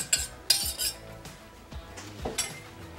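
A utensil scrapes sauce out of a container into a crockpot over stew meat and onions, with several clinking, scraping strokes close by at moderate level, no talking.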